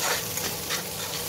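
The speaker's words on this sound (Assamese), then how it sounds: "প্ৰথমে এইখিনি সম্পূৰ্ণ ভাজি ল'ম।" Split green chilies fry in a hot pan, giving a steady close sizzle with stirring scrapes throughout and no speech.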